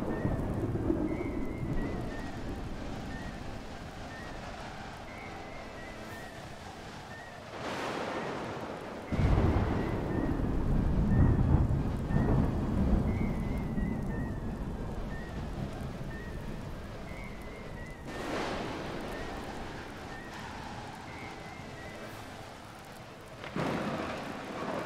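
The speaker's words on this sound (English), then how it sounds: "Perilous storm." A thunderstorm with steady rain in the video game Smalland: Survive the Wilds, continuous loud rainfall broken by several heavy rumbling thunder bursts, with no talk.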